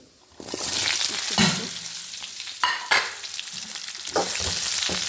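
Onions and a green chilli sizzle loudly in hot oil with popped mustard seeds, a continuous crackling hiss broken by a few stirring scrapes.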